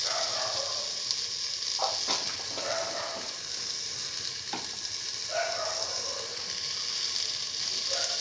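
A spice mixture is stirred into beef and eggplant in a hot pan, with a constant soft sizzle and frying hiss under intermittent scraping and knocking of a utensil against the pan, fairly quiet and close.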